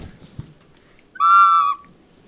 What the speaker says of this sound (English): Making some water whistles.